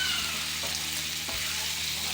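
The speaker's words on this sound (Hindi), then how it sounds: "चिकन को अच्छी तरह फ्राई कर लेते हैं।" Chicken fries in a pan for a murgh cholay salan, giving a steady, fairly loud broadband sizzle that continues alone throughout, with one faint knock partway through.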